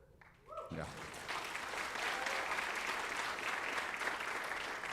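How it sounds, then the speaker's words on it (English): A dense, loud wash of applause and cheering from a crowd at a school athletics signing day rises quickly after a brief spoken moment and holds steady to the end. "I usually will say hold the applause"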